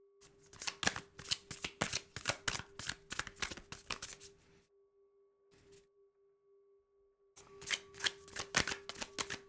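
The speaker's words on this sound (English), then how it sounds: "Let me shuffle this other way. Cards mixed up a little bit more." Cards are shuffled for a reading in quick, rapid riffling bursts, close and crisp, pausing near the middle before resuming over a faint steady tone.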